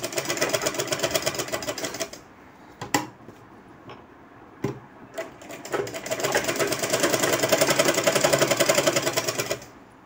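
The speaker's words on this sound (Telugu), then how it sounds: "సూది ఇక్కడ పడిందంటే విరుగుతుంది, అందుకనేసి ఇలా కుట్టేటప్పుడు చూసుకుంటూ కుట్టుకోవాలి" A sewing machine stitches a cut-work blouse set with beads and stones. It runs in fast, rattling bursts, stops briefly in between, then resumes for a longer steady stretch.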